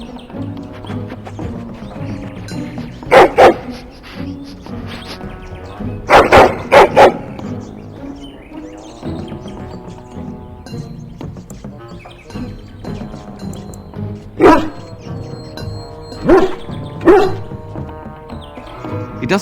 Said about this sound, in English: Get the dog out and keep him away,